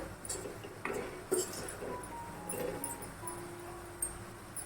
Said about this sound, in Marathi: आणि पुन्हा आता झाकणी ठेवायची आपल्याला